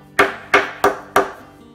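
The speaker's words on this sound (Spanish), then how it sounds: "con un martillo, ayudarnos a acabar de clavar las grapas que se hayan quedado un poco levantadas" A hammer drives staples into a kitchen cabinet door with four sharp, evenly spaced blows, loud and close, each ringing briefly before the next.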